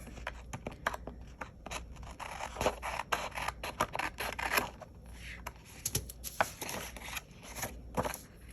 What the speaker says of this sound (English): I'm going to cut all these pieces off.